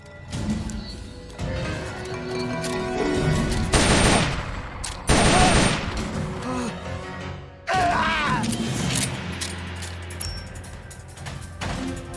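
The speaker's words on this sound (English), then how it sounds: "shooting the box" Gunfire from Metal Gear Solid: Peace Walker on PS3, shots aimed at a box, comes in a few loud, close bursts, with busy game sounds and music in between.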